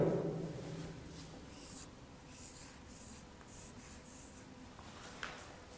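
Marker strokes on a board as a word is written, a quiet series of short squeaky rubbing strokes, close and faint.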